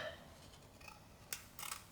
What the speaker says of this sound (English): I'm just going to trim it with my smaller scissors here